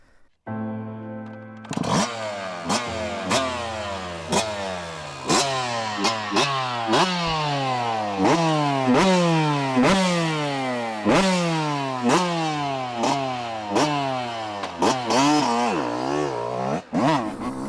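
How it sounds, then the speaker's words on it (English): A Yamaha YZ250 two-stroke motorcycle engine on a riding lap revs loudly and steadily, climbing through the gears again and again with sharp shifts between. The rising buzzing pitch sweeps are heard close with no talking. "Okay, so I'm on my modern bike here, my Yamaha YZ250."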